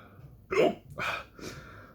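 Hiccups come from someone after eating a purple Carolina Reaper pepper pod: three short, voiced, jerky bursts about half a second apart, close to the microphone, with no talking between them.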